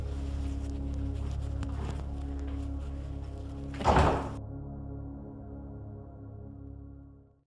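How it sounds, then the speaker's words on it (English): An indoor door thuds shut once midway, a short muffled knock over a steady low hum, with quiet surroundings afterward. "And please close the door behind you."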